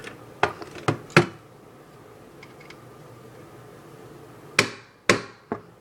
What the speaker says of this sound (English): Hammer out that small pin right there.